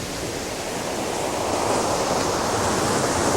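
Steady ocean surf washes onto a beach in a dense, continuous roar that swells slightly louder toward the end, with no voices.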